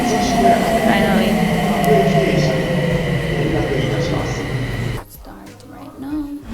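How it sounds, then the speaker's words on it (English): A train arriving at a station, a loud rolling rumble with squealing brake tones that drops away abruptly near the end, with a voice heard over it. "Finally, my train is here."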